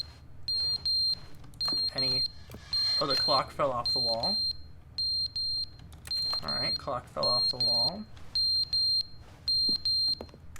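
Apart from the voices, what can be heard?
fire alarm beeping with low battery in The Stanley Parable video game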